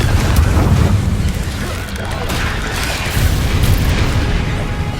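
A Confringo blasting spell cast in Hogwarts Legacy, a loud, sustained low booming explosion with a crackling burst that keeps rumbling for several seconds and swells again toward the end.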